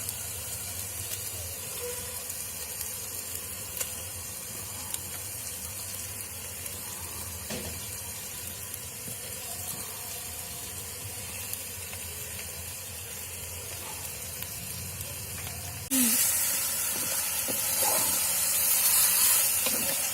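Fish is added to a tamarind curry with tomatoes in an earthen pot, producing a steady close hiss and sizzle throughout that swells louder toward the end.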